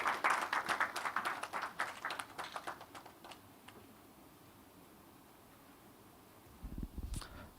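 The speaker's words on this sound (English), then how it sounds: "with a round of applause, kindly help me welcome the chairman for today's event, Mr. Edward Ashon Latte." Workshop audience applauding to welcome the event chairman, loud scattered clapping that builds at first, fades to quiet room noise, then a brief final burst near the end.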